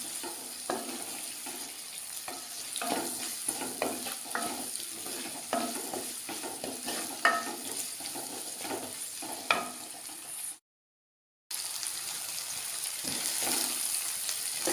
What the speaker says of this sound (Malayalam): അപ്പോൾ ഉള്ളി നന്നായിട്ട് വഴറ്റി വന്നിട്ടുണ്ട്.